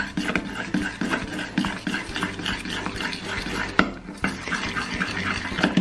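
Slime tinted with blue and yellow pigments is stirred nonstop at close range, producing a rhythmic, wet squelching and clicking churn that repeats quickly without pause.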